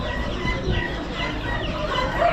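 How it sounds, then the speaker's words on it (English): Rhode Island Red roosters cluck in a noisy auction setting among other poultry, with a continuous busy barnyard clatter and a brief higher call near the end. "Rhode Island red roosters."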